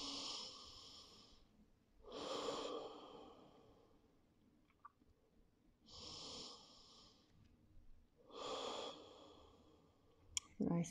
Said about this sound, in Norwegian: Puster inn og ut noen ganger.